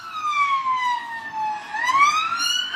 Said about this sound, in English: I can hear some sirens, I think, coming from behind me.